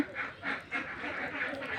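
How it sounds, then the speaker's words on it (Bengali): Ducks quack in quick, repeated nasal calls, a rhythmic chorus at moderate distance that keeps going without pause. "এদিকে হাঁস তো ডেকে ডেকে কানের মাথা খেয়ে ফেলছে"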